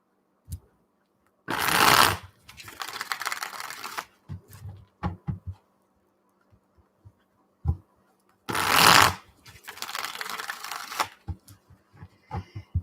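Tarot cards are riffle-shuffled in two loud, crisp bursts about seven seconds apart, each followed by softer taps and card handling, close and without talk.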